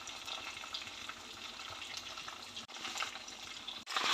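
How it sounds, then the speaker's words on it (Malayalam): Mustard and fenugreek seeds spluttering in hot oil for a spicy mango pickle, a dense, faint crackling sizzle that carries on steadily with no voices. "കടുക് ഉലുവയും നല്ലപോലെ പൊട്ടുന്നുണ്ട്."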